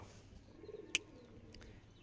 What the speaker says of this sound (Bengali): আর এই যে আমাদের একটা অতিথি কবুতর